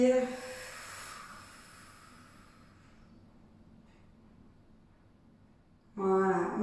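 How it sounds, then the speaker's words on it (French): A strong exhale during a Pilates exercise, a breathy rush of air at the start that fades into quiet, with a voice coming in near the end. "Voilà, on souffle."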